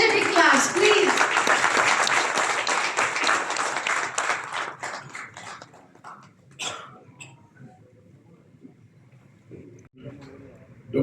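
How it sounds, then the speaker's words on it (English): Loud applause from a conference hall audience at the Global Rice Summit 2024 in the Taj Krishna Hotel, Hyderabad, greeting Telangana's Minister of Irrigation and Civil Supplies; it fades after about five seconds into scattered coughs, throat clearing and quiet talk. "Please welcome him with your energetic claps, please."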